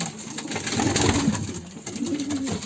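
Pigeons coo softly and repeatedly in an enclosed coop, with low murmuring calls overlapping under a steady background hiss.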